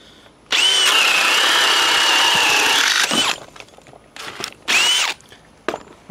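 A Bosch 1330c drill bores with a 2 9/16 self-feeding switchblade bit, a loud, steady, close whine lasting over two seconds, followed by shorter bursts and a final brief spin-up with rattling in between.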